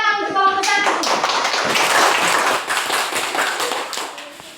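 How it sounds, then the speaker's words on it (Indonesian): A classroom audience claps for a student group at a teacher-training session, brisk, close applause building quickly, holding strong, then thinning toward the end, with a little voice at the start. "Tepuk tangan untuk kelompok"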